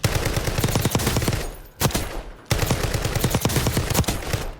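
Assault rifle fire in Call of Duty Warzone, loud close sustained automatic bursts of rapid shots, broken by a short pause before firing resumes.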